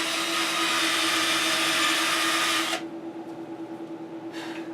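A cotton buffing wheel polishes a bass guitar neck, a loud steady whir that runs for under three seconds, then cuts off abruptly and leaves a faint rhythmic rumble with a short burst near the end.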